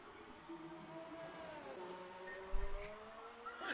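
Formula 1 cars lapping the Singapore circuit in a racing video game, heard as a continuous high engine whine that slides up and down in pitch, with a brief thump and rougher burst toward the end.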